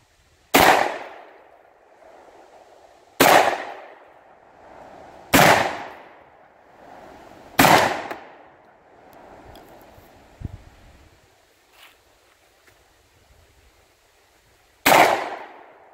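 Five loud shotgun blasts fired at a pattern board outdoors, each a sharp crack with a short ringing tail, the first four spaced evenly a couple of seconds apart and the last after a longer pause.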